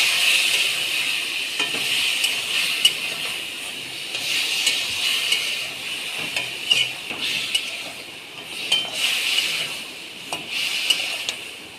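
Masala sizzles steadily in a pan while being sautéed for a thin fish curry of puti fish with green banana and papaya, a loud, close hiss with occasional stirring scrapes and clicks.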